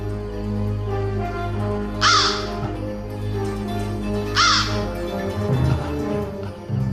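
A crow caws twice at evenly spaced intervals, each call a harsh, ragged croak standing out clearly from a steady ambient rumble in a rural folk-drama setting, with no talking.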